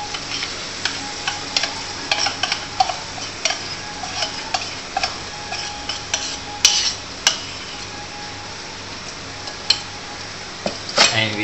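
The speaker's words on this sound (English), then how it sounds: "And we stir." Tauchu being stirred into softened onion and garlic in a pan for babi pongteh, with scraping utensil strokes and soft clinks over a steady low sizzle, close and moderately loud throughout.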